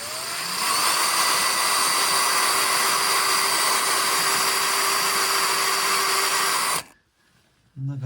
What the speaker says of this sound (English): and we start to drill.